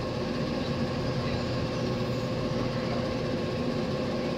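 Steady interior rumble of a priority-class passenger train running, a continuous low drone and rolling noise with no talking.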